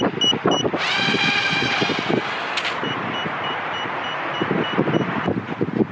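Repeated electronic beeps from the impact sensor of a remote-controlled FPV paper airplane, over a windy outdoor background, with a loud tonal whine rising partway through and fading again.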